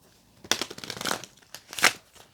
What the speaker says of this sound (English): I'll give it one more shuffle and cut the deck